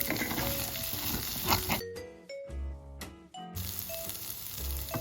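Poha seasoned with salt is stirred in a pan with a hissing, scraping rustle, interrupted midway by a short burst of musical tones before the stirring returns, close and fairly loud.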